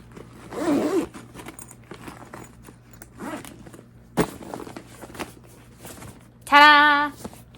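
A zipper on a fabric travel bag packed with fiber craft projects: soft handling rustles and taps, then one quick, loud zip pulled closed near the end.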